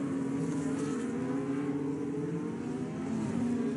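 A race car engine revs hard and steadily through early gear changes, a continuous loud droning roar with smooth shifts in pitch, heard alone without voices.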